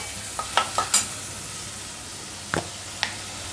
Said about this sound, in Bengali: আর এই মশলাটা কষানোর সঙ্গে আমি মাছটা দিয়ে দিচ্ছি আলাদা করে